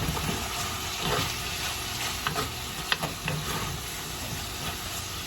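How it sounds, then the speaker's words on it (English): Onions sizzle in a tagine, giving a steady, close frying hiss with faint stirring clicks and scrapes over it and no talk. "The onions are sizzling nicely."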